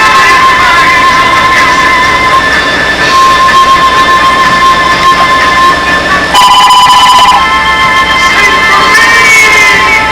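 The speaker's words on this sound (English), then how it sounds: "The phone's already ringing." A telephone rings at home, its electronic tones repeating over a loud steady background hum, with one brighter, stronger burst partway through.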